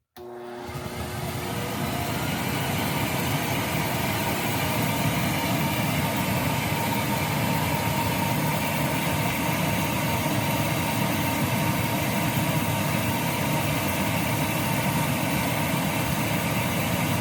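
A Prolux CTX vacuum cleaner runs steadily with its exhaust cap removed, a loud, constant motor whine and rushing airflow starting abruptly and holding level throughout, with no talking.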